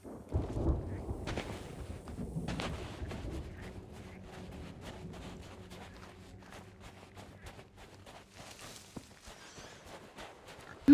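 Thunderstorm at sea in the pirate video game Sea of Thieves: rumbling thunder rolls early on, followed by patter of rain and scattered clicks and footsteps, fairly faint throughout.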